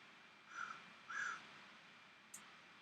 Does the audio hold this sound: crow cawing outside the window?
yes